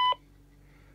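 A Diagral GS100 GSM telephone transmitter dials out with a quick burst of DTMF tones right at the start, then falls to a faint hum.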